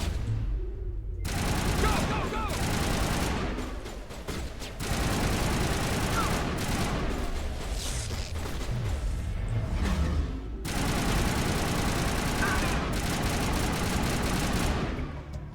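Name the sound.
gunfire in the video game Mass Effect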